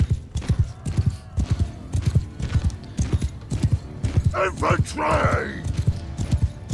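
Rhythmic clip-clop of galloping horse hooves while riding in Mount & Blade II Bannerlord, steady and close, with a shouted voice and battle noise briefly rising over it midway.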